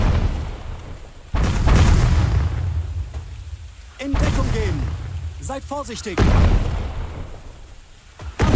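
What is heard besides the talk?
grenade explosions in the video game Ratten Reich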